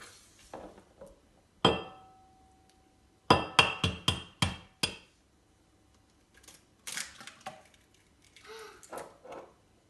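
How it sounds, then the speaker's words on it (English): An egg being cracked for eggy bread: a sharp knock, then a quick run of crisp taps and cracks against a hard edge, followed by softer scattered clatter nearby with no voices. "Cracking the egg."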